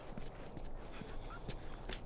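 Horse hooves clip-clop at a steady walking pace in The Last of Us, faint and soft, with quiet game ambience around them.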